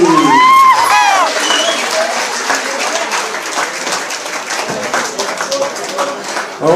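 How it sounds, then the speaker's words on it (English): Spectators at an amateur fight event applaud after a bout result is announced, a dense roar of clapping with scattered whistles and shouts, loud at first and then holding steady until it stops abruptly. "ladies and gentlemen, a round of applause for Gary Brown"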